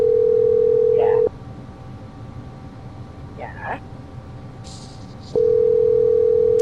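A telephone ringback tone sounds as a steady, loud electronic beep. It is heard at the start and again near the end, with a muffled voice talking in the quiet gap between.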